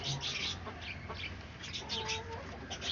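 Free-range country chickens and several roosters kept on a rooftop terrace, clucking and calling in a steady, busy flock chatter at moderate distance over continuous background noise.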